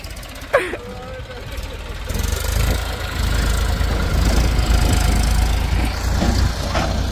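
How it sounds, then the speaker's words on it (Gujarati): A farm tractor fitted with a special leveling blade, its diesel engine rumbling loud and close, rising after a brief knock and holding a steady heavy drone while people talk nearby. "એક ટ્રેક્ટર સ્પેશિયલ પાવડામાં રાખ્યું જે આનું રેવલ કરે અટાણે."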